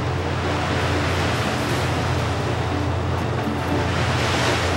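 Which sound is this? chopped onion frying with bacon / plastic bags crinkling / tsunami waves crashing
tsunami waves crashing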